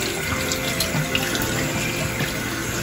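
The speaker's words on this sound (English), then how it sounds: "and then I'll wash it off" A bathroom tap runs steadily into a sink during face washing, a continuous close splashing hiss with no talking.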